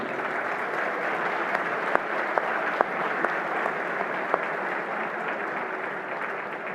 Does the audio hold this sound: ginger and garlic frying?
no